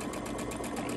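Sewing machine fitted with a dual feed quilting foot and guide, stitching steadily through thick bag fabric, giving a close, even rapid mechanical whir with a regular pulsing rhythm and no talking.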